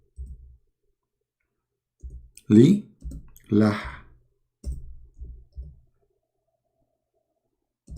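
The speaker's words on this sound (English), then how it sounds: "Oh, sorry, we are typing" Keys clack on a keyboard in short irregular bursts of taps while someone speaks in between.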